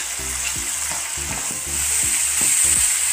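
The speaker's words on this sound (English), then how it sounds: "Keep stirring the mushrooms till it is completely dry" Mushrooms sizzling in a hot pan while a utensil scrapes and stirs them in a regular rhythm of about two strokes per second, loud and close with no talk.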